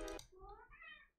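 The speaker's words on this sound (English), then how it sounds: "I was so distracted by my cat" A house cat gives one short, rising meow, fairly clear and close, following a brief burst of other noise.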